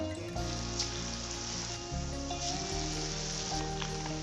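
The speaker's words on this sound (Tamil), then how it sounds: "இதை அப்படியே எண்ணெயில் போட்டுடலாம் இப்போ எண்ணெய் காஞ்சிருச்சு ஒவ்வொன்றா போட்டுக்கலாம்" Batter-coated egg pieces fry in hot oil with a steady, even sizzle, heard under a background of sustained musical tones.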